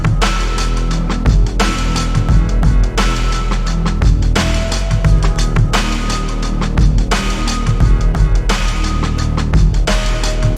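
A musical sample is played entirely through Valhalla Room reverb, becoming a washed-out, sustained wash of repeating chord swells that return roughly every second and a half, with no voice.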